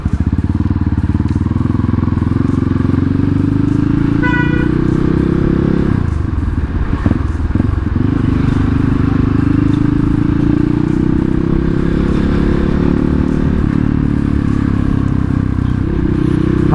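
A Kawasaki KLX motorcycle fitted with a 248 bore kit rides along with a loud, steady engine drone that rises and falls as it accelerates, with brief rattles and wind over it, no talking.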